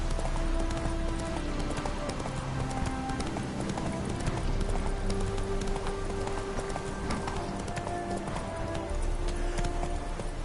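Roach the horse gallops in The Witcher 3, hooves drumming in a fast, continuous clip-clop rhythm close up, with a steady game ambience underneath.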